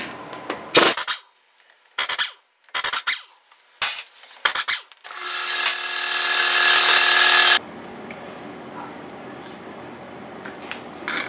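An impact wrench or power tool removes the lug nuts on a Mini Cooper with a 17 mm socket during a brake job. It sounds in several short loud bursts, then gives a long sustained whir before stopping.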